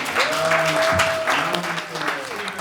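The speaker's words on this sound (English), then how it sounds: "Everybody give a round of applause for speakers" A crowd applauds the panel speakers at a lounge conversation event in Washington, DC, a continuous wash of clapping from start to end with a thin sustained electronic whine running beneath it.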